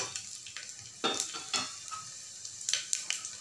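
Whole spices, a black cardamom, two cloves, green cardamom and cinnamon, crackling in hot oil for a lauki aalu sabzi: soft sizzle with a few sharp pops and stirring clinks, no talk.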